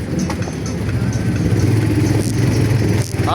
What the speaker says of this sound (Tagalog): Maraming motor dito, oh.